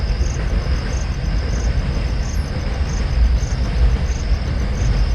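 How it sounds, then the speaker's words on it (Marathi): A train rolling past in the morning, a continuous deep rumble that swells a little toward the middle, while rhythmic insect chirps pulse faintly overhead. "आत्ता पण सकाळी सकाळी धक धक धक धक चाललेली आहे गाडी."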